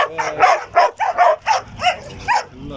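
Guard dogs at a dog breeder's kennel bark loudly and close by, giving about eight sharp barks in an uneven rhythm, with some yips mixed in.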